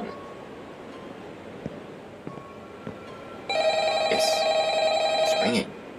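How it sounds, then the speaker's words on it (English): A telephone bell rings loudly in a quiet room, one continuous ringing burst of about two seconds after faint background noise. "It's ringing. Should I answer it?"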